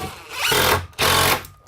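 A power tool driving screws into a wiring staple on a stud wall in a bathroom, two loud whirring bursts close up separated by a short pause.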